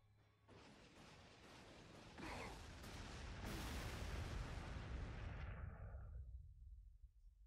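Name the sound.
Whirlwind artillery firing in Warhammer 40000 video game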